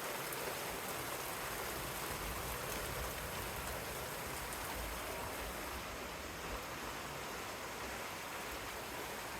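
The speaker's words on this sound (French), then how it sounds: "Oh là, il pleut fort, hein." Heavy thunderstorm rain pours down in a dense, unbroken hiss, steady and fairly soft throughout, like water drumming on surfaces with no voices over it.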